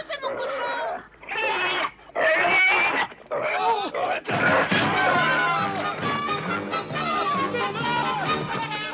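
A pig grunts and squeals in loud, harsh bursts with short pauses between them, then breaks into a longer, continuous run of noisy squealing.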